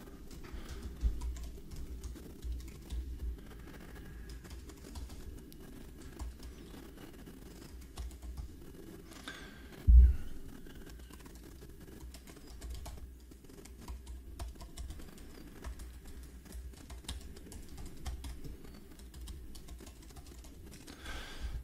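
Typing on a computer keyboard to fill out a web form, quiet soft key taps in irregular bursts with one louder thump midway, heard alone.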